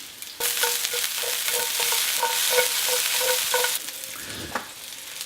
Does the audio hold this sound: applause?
no